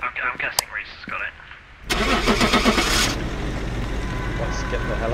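In the horror video game Phasmophobia, a lorry engine cranks and starts with a loud mechanical whir, then settles into a steady idle, right after people whisper and talk.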